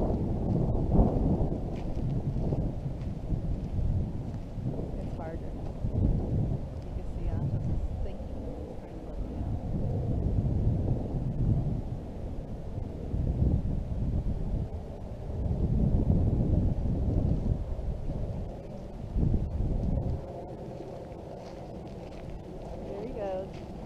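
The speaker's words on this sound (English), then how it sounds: "Yeah, the wind's pretty strong." Strong wind buffets a microphone outdoors at a horse training track, with low rumbling gusts rising and falling throughout while people talk now and then.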